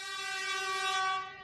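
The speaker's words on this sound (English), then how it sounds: "I'm gonna put the air horns on him." One sustained air horn blast, loud and brassy, holding a single steady tone for about a second and a half before trailing off, with nothing else heard.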